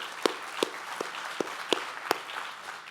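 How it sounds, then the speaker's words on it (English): Sparse, scattered claps from a small audience at a talk about a solar electric propulsion project: about seven distinct, spaced-out hand claps over a faint background murmur. "Let's give them another round of applause."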